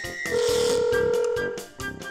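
A telephone rings on a call that goes unanswered, a steady sustained electronic ringing tone with pulsing beats beneath it, near and loud, fading briefly before the pattern resumes.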